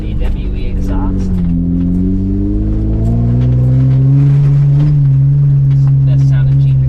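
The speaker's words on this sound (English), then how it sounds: "Soundtrack courtesy of the WE exhaust." Jeep growling through a WE trail edition exhaust during an endurance rally, the engine note rising and falling in loud, close revs with a deep throaty drone, voices talking over it.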